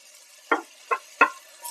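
Chopped tomatoes are sautéed in a pan while cooking plain biryani (kuska), with three short scraping stirs spaced apart, close and fairly soft against near silence.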